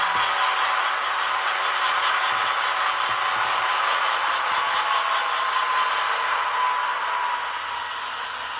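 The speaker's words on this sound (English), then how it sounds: "F4 is dynamic brake when it's moving, so I'll go ahead and move this so you can hear the dynamic brake line" An ESU LokSound decoder in an HO-scale Dash 9 diesel locomotive plays its dynamic brake sound while the model moves, a loud, continuous whining roar that holds steady and eases slightly in the final second.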